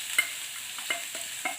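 Bombil chutney paste fries in hot oil in a pan, with a steady hiss and a few sharp sizzling crackles and stirring scrapes at irregular intervals, close and fairly loud.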